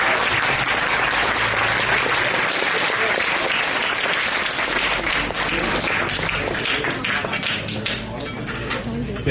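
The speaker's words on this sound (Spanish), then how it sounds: "Otro fuerte aplauso," A congregation gives loud, sustained applause at a church celebration of a monsignor's 50th anniversary as a priest, dense clapping filling the hall throughout with voices mixed in.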